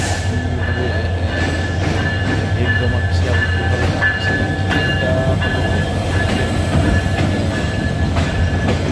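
At a railway station crowded for the Eid homecoming, a train rumbles steadily with metallic clatter and faint wheel squeals, and indistinct voices murmur in the background.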